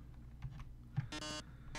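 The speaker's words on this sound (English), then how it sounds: "Still not entirely sure what all that typing does" Rapid keyboard-like typing clicks from the Undertale video game, a short burst of soft taps followed by bright electronic blips, quiet and alone without talk.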